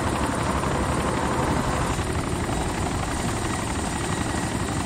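Helicopter flying in the video game ARMA II: a loud, continuous rotor thrum and engine roar filling the whole span without pause, heard from inside the aircraft.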